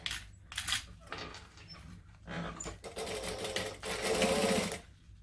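Sewing machine stitching the straight seams of a zip-around wallet, bursts of rapid mechanical stitching with short pauses between runs, close and fairly quiet.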